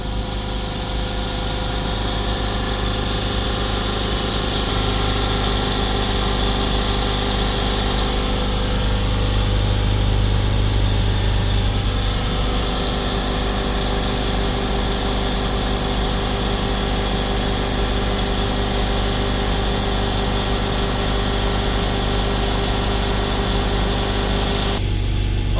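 A Ford Transit Custom 2.2 Euro 5 diesel engine held steady at 3000 RPM gives a loud, constant drone with a steady hum and whine, unchanging throughout and heard close up, with no talk.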